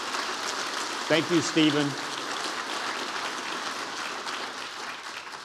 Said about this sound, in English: please give Stephen a round of applause.